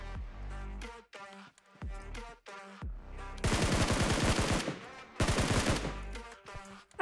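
Video game gunfire rattles in sharp automatic bursts, two long loud volleys separated by shorter runs of single shots and pauses, close and punchy with no talk over it.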